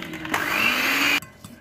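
An electric beater whips butter cream in a brief, close, loud burst of steady high whirring that lasts under a second, then cuts off.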